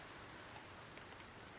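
Steady soft rain falling at night in the video game Language of Flowers, a continuous even hiss with no other sounds.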